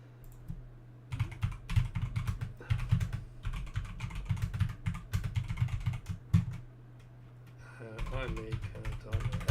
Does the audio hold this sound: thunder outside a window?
no